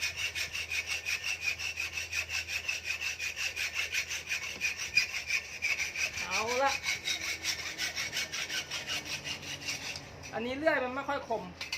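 A hand saw cuts through an aluminium rear footrest, rasping back and forth in a steady rhythm, close and fairly loud, with a couple of brief squeaky strokes near the end.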